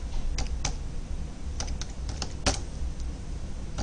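Fingers type a password on a computer keyboard while enabling telnet on a router, a short run of close, quiet key clicks with a few sharper taps over faint background hiss.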